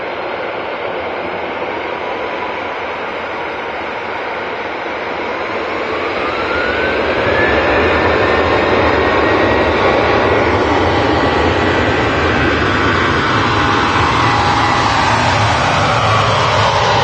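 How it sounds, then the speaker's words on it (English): A Ryanair jet rolls for takeoff at Manchester Airport, a broad engine roar that swells over several seconds and holds loud and steady with a rising whine, heard at a distance with no talking. "Here we go, Ryanair's rolling."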